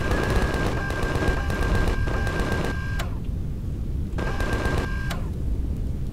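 Rapid bursts of automatic gunfire in the Empyrion sci-fi survival game, with sustained rattling volleys, a pause, then another burst, at a steady moderate loudness alongside a thin electronic tone.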